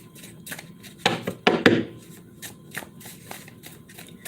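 Tarot cards are shuffled at close range with soft, papery riffles and taps, a few louder bursts in quick succession then lighter scattered shuffles, all in a quiet room.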